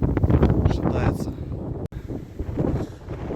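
A strong Nord-Ost wind on the Markhotsky ridge roars and buffets the microphone in heavy, gusty bursts, with someone speaking under the din.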